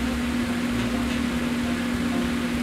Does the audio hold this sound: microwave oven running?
yes